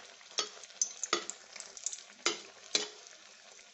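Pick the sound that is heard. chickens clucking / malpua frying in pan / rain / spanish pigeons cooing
malpua frying in pan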